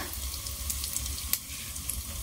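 Urad dal, mustard seeds and cumin tempering in hot oil for mango tokku, a steady close sizzle with a few sharp pops and crackles, no voices.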